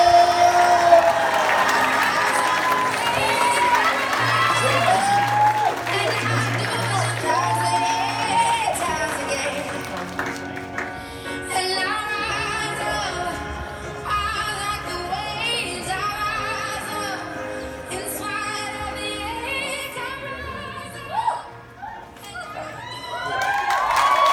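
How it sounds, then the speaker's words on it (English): A youth summit audience bursts into loud applause and cheering, with whoops and children's shouts rising over sustained clapping that carries on for many seconds, with music and voices mixed in. "Massive round of applause for Shalise Leesfield!"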